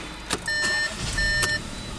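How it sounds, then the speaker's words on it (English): A car engine revs from inside the cabin, with a steady mid-level drone, a thin whining tone that rises and holds twice, and a few short bursts on top. "look at those revs"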